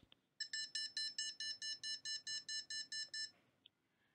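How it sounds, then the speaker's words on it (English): A navigation device for the visually impaired signals a malfunction with a rapid series of about thirteen short, high-pitched electronic beeps in even rhythm, followed by one faint final beep. "If a problem occurs where the system is malfunctioning, the user will be notified by a different beeping sound."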